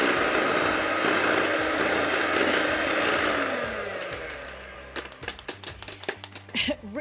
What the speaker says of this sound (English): now that the blender has stopped